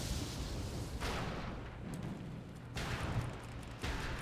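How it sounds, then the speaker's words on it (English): Heavy cannon bombardment in World of Warcraft, a Death Knight starting zone battle: deep booming blasts roughly every second and a half over a dense, roaring battlefield din, loud and close. "now we shall bombard them from behind"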